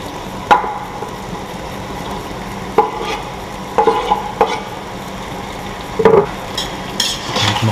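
Paprika and tomato being stirred in a cooking pot for Hungarian chicken paprikash, a low simmering sizzle under repeated scraping knocks of the spoon against the pot, close and without talking.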